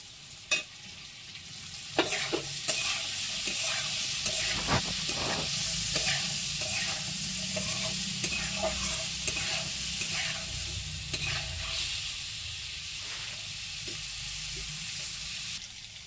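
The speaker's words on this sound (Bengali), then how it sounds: "এখন মটরশুঁটি দিয়ে দিচ্ছি।" Green peas sizzle and fry in a pan for chira upma while a spoon stirs them, steady broadband frying hiss with scattered scraping clicks throughout, close and fairly loud, no voices.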